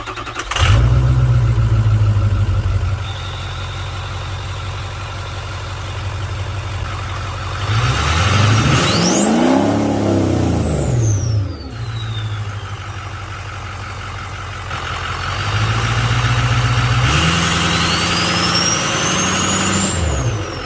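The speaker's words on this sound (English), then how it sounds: "we got to have a startup so you can kind of hear what it sounds like" A truck with a hood stack exhaust idles with a heavy rumble, then revs hard in rising and falling swells. A high turbo spool whistle sweeps up and down over the engine, with no voices.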